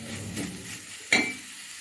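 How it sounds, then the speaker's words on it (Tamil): Samosa filling being sautéed in a pan, a soft sizzle with light stirring scrapes and a single sharp clink of a utensil against the pan partway through. "இதையும் போட்டு நம்ம நல்லா வதக்கலாம்"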